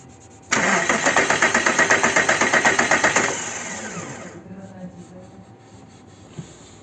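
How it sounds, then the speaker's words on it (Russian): Audi Q7 with a 3.6 FSI engine cranks from cold at about half a second, rapid rhythmic starter pulses for roughly three seconds, then catches and settles into a quieter steady idle with faint knocking. "Так, слушаем двигатель, заводим, слушаем на холодную."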